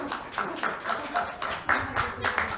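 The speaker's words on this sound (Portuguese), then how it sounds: "Mas salva de palmas para o mais atrevido." A small audience claps in a short, uneven round of applause, the claps sounding close under a speaking voice.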